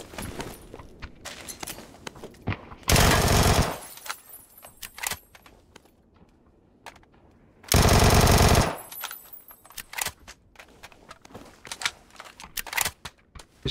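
PUBG video game gunfire on the Taego map, with two loud sustained automatic bursts each lasting about a second, separated by quieter stretches of clicks, footsteps and light rattling.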